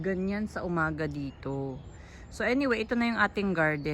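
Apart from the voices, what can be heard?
No distinct noise like a dog, phone or traffic.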